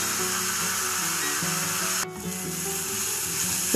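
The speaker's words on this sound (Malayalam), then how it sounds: "വെളിച്ചെണ്ണ ചൂടായാൽ നമ്മൾ അരിഞ്ഞു വെച്ചിരിക്കുന്ന സവാളയും വെളുത്തുള്ളിയും ഇട്ട് ഒന്ന് വഴറ്റുക" Sliced onion and garlic sautéing in hot coconut oil with curry leaves and salt: a steady close sizzle with soft rubbing and stirring strokes, briefly dipping midway before resuming, and no voices.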